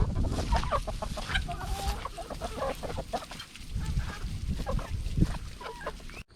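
Several chickens cluck and murmur close by, with scattered sharper squawks over a steady low rumble of movement.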